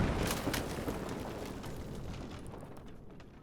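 A single explosion in the STALKER video game, a broad roaring blast already underway that rumbles and slowly fades over a few seconds, heard alone.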